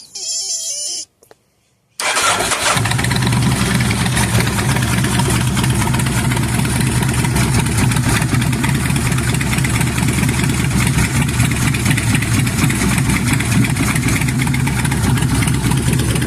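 V-twin engine idling roughly and running poorly, with a fuel fault and black smoke from the pipe, loud, close and continuous after a brief starting sputter and a short pause.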